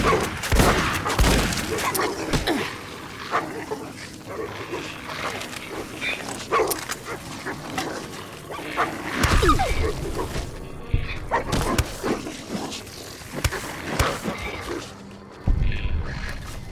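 A pack of dogs barks and yelps in the video game Fallout New Vegas, a busy, overlapping chorus of loud barks along with gunfire-like bursts, while a person talks over the game sound.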